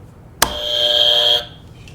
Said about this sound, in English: Hit your buzzers when you want to answer the question.